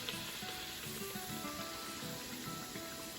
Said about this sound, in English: I flip it around and I slide it into the oil